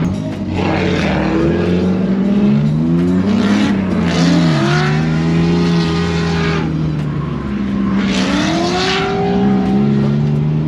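A BMW E46 engine drones loudly and steadily on a race track, its revs climbing and dropping through several gear changes as the car laps, with no talk over it.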